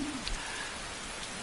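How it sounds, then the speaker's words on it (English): Steady pouring rain in Skyrim, a dense continuous hiss of falling drops with no talk, holding evenly through the short stretch. "And look at that, we come out into the pouring rain"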